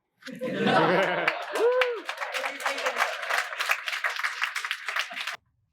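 At a math symposium's closing ceremony, a crowd applauds judges and team leaders, with a sustained burst of clapping mixed with chuckles and some voices, ending abruptly after about five seconds.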